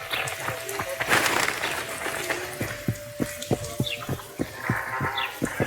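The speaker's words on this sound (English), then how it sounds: "Oh, no, it's raining." Rain falling in The Witcher 2, a steady wash of drops with sharp thumping impacts and clicks layered over it, loud and close, no talk.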